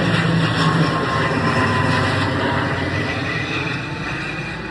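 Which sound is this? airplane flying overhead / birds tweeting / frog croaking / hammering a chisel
airplane flying overhead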